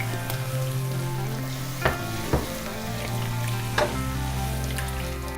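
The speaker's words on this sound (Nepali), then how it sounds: "2 मिनेट पछि म यसमा थोरै दूध राखिदिन्छु र यसलाई चलाउँदै जान्छु।" White sauce paste cooking with milk in a pan, a steady soft sizzle and bubbling throughout, broken by a few sharp scrapes and knocks of a spoon as it is stirred.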